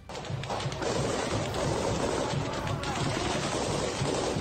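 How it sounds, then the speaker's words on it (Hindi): Rapid bursts of gunfire crackle continuously, dense and overlapping at a distance, over a constant rumbling background. "लड़ाके एक इमारत पर ताबड़तोड़ गोलियां बरसाते दिखाई दिए"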